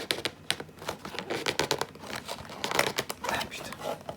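Crinkly plastic wrapper of a sealed Naruto Kayou trading card booster pack being torn open and crumpled close by, in short irregular bursts of rustling and ripping.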